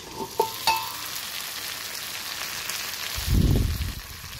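Chicken drumsticks fry in a covered pan with a soft, steady sizzle, a couple of sharp clicks near the start and a low rumbling thump toward the end, with no talking.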